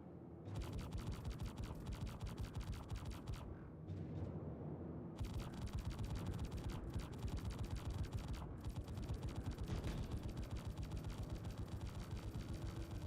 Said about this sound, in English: he's trying to hit me with his main guns